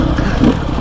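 A 300cc enduro motorcycle engine runs close and loud with a low, rough rumble for under a second, steady with no clear revving and no voices.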